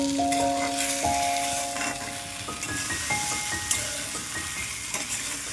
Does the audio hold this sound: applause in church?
no